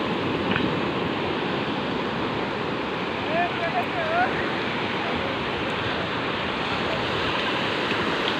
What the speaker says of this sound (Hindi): बहुत अच्छी लहरें आ रही हैं।